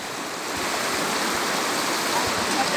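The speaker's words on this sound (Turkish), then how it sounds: "Şu derenin suyunun akışındaki huzurluğa bakın ya." Creek water flowing over stones in a continuous, close rushing wash, steady and alone without voices.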